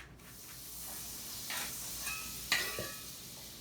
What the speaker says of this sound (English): So the skillets are sizzling hot, and I have here the Shiitake mushrooms.